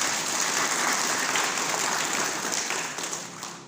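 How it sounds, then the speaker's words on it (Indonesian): An audience claps for participants at a gathering, dense steady applause that holds strongly for a few seconds then thins and fades toward the end. "Tepuk tangan buat peserta."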